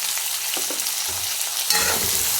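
Pona fish with turmeric and salt is stirred in a hot pan, a spatula scraping in short strokes over a loud, constant sizzle of frying oil.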